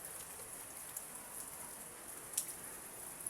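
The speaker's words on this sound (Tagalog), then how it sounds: "Maulan guys. Maulang araw" Steady rain falling on an outdoor surface, a soft continuous hiss with a few brief droplet taps, faint and even throughout with no talking.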